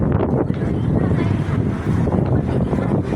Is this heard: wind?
yes